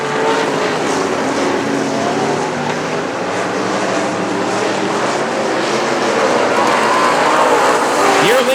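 Race cars roar around the South Texas Speedway oval in a continuous loud engine drone, with pitch sweeping as cars pass near, a race announcer talking over it.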